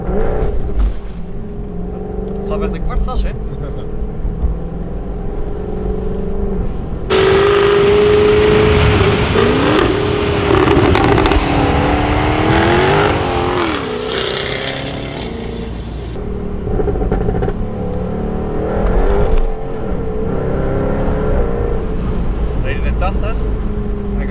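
A Jaguar F-Type V8 S with about 500 hp driving in the rain, its engine droning loudly and surging into a strong rev in the middle before settling, while people talk and laugh over it.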